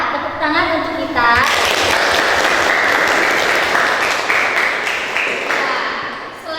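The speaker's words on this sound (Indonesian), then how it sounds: "Tepuk tangan untuk Ita." Applause breaks out in a classroom for a student, several pupils clapping together in a loud, steady burst that holds for several seconds, with some voices mixed in.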